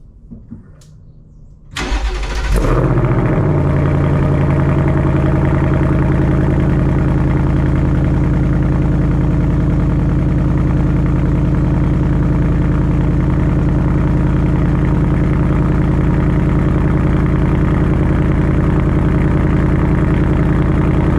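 A 2024 Mustang GT engine cranks briefly, catches with a roar, then settles into a loud, steady idle that rumbles on continuously for a long stretch.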